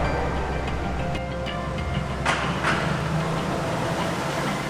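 A Mercedes-Benz G-Class off-roader approaching across a rooftop parking lot, its engine a loud, continuous deep rumble with a broad roaring wash and no voices.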